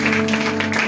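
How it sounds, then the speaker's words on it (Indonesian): A church congregation claps in a dense, loud burst of applause at a Christmas service, the clapping filling the short moment without any voices. "Tepuk tangan dong lebih meriah lagi buat Tuhan"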